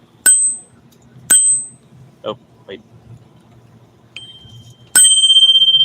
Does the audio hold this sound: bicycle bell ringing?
yes